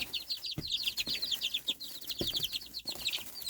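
Young chicks cheep and cluck continuously in a rapid, overlapping flurry of high peeps, close by, with a few soft thumps and brief flutters mixed in.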